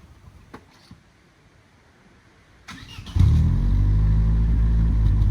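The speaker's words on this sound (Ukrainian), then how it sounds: "Мішаня, заводь мотор." An Opel Astra G coupe 1.6 engine cranks and catches, then settles into a loud, deep, steady rumble close by after a quiet stretch.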